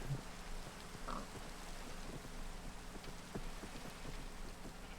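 Steady rain patters on a surface in the video game Minecraft, falling on sheep, a soft continuous hiss with scattered droplet taps and occasional faint grunts in the background.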